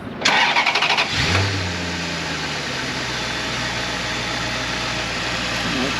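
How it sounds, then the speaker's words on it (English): The 4.2-liter V8 of a 2004 Maserati Cambiocorsa coupe cranks with a quick run of starter pulses, fires with a short rev flare, then settles into a steady, close idle rumble. "fire it up, and show you some lights working."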